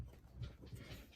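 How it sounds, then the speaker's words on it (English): Faint, quick panting from a dog in the background indoors, a soft rapid breathy rhythm with no talking over it. "you can hear the dog in the background"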